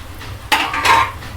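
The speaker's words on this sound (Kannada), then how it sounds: "ಇವಾಗ ನಿಮಗೆ ತೋರಿಸಿದಂಥ ಕೊಬ್ಬರಿನ ಇದ್ರೊಳಗೆ ಮಿಕ್ಸ್ ಮಾಡ್ಕೋತೇನೆ" A utensil scraping a pan twice while grated fresh coconut is stirred into fried onions for mutton curry, two short, loud, close metallic scrapes over a quiet low hum.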